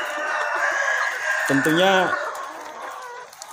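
On a farm, KUB chickens cluck while a rooster lets out a short, nearby crow midway, over a steady background of clucking and someone speaking.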